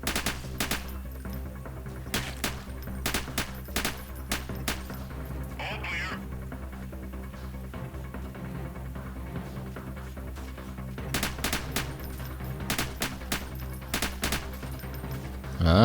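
Gunfire in the video game Freeman Guerrilla Warfare: repeated sharp shots and bursts, some in rapid clusters, scattered across the clip over a steady low rumble of game ambience, loud and close.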